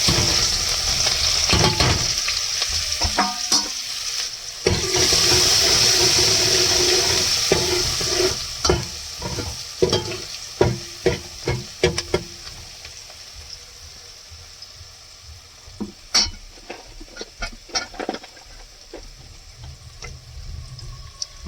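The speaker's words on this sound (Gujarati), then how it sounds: "થોડીક નાખી દઈએ આપણે હિંગ હવે આપણે નાખી ડુંગળી" Onion and asafoetida sizzle and fry in a hot pan in an Indian home kitchen, a steady loud hiss with stirring clatter and scraping breaking through, the frying fading into scattered utensil clicks and knocks later on.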